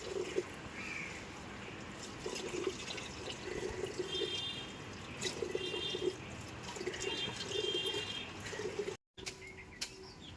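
Rice is washed in water, with soft splashing and dripping running steadily under a continuous background hiss, while birds chirp faintly in the distance.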